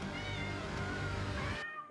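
A cat meows within a busy film trailer mix, its cries sitting among music and effects that stay loud for most of the two seconds before cutting off abruptly near the end.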